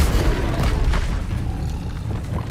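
An Expelliarmus spell blast in the video game Hogwarts Legacy booms loudly and continuously, a dense rumbling impact with crackling texture that fades slightly toward the end.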